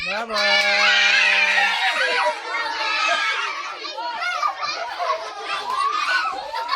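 Loud crowd of children playing outdoors in the Philippines, shouting, squealing and chattering over one another, with a sustained shrill cry at the start and continuous overlapping young voices throughout.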